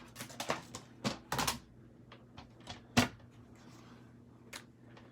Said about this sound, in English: So I'm just going to grab my paper trimmer.